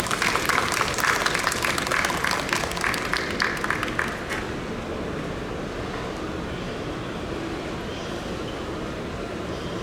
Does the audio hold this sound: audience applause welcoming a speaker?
yes